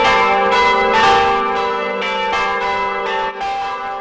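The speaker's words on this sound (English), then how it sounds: "Bells rang for 15 minutes at Marquette's campus to signify the official resignation." Church bells ringing on the Marquette University campus to mark the resignation of Pope Benedict XVI, loud sustained overlapping peals with rich ringing tones and repeated strikes.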